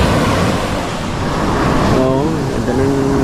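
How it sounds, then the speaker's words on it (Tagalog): Sea waves washing onto a shore under windy conditions with low pressure approaching, a steady loud surf rush throughout, joined by a person talking over it in the latter part. "Ganda ng dagat namin."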